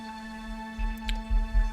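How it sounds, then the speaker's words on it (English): A Roland synth holds a thin, steady high drone note, quiet and continuous, with soft low thumps pulsing underneath toward the end. "that guy is kind of doing a little high droney note"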